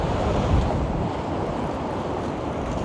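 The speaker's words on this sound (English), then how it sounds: "the wind is horrendous. It's at my back" Strong gusting wind on a Toronto city street: loud, steady rumbling buffeting into the microphone that stays constant throughout, with no voices.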